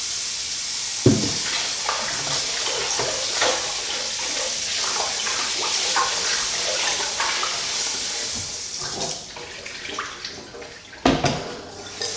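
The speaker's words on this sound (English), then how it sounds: "I'm going to wash it in a bowl so I can put the lemon" Beef tripe is washed in a bowl, a close continuous splashing and sloshing of water with a few sharper knocks and splashes near the end.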